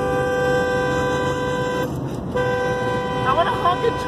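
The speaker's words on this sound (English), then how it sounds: "I want to honk at Jordan" A car horn blares in long sustained honks near a rail line, pausing briefly midway before sounding again, with faint voices in the background.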